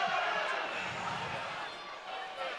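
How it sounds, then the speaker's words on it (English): Crowd at a rugby league cup match between Catalans and Hull roaring loudly and continuously, a broad sustained swell with a commentator's voice faintly mixed underneath. "I'm actually agreeing with the roar of the crowd"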